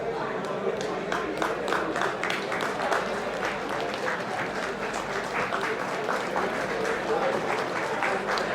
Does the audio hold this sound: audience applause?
yes